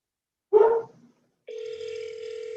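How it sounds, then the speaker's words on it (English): Ringback tone on an outgoing phone call to a homeowner: after a short burst of sound, a steady, even tone drones on without a break. "There it goes. I can hear it ringing."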